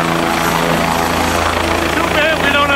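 A loud, steady helicopter drone with rhythmic rotor chop fills the clip, close and continuous, with voices faintly mixed in, during a flight over Niagara Falls.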